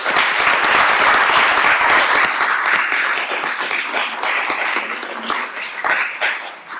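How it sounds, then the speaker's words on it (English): A crowd at a local candidates forum gives sustained applause, loud and dense at first and slowly tapering off toward the end. "A round of applause for their"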